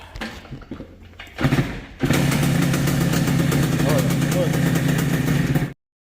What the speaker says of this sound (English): I need to sort the idle out on this, because it's not good.